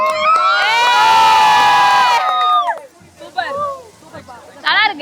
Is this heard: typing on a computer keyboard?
no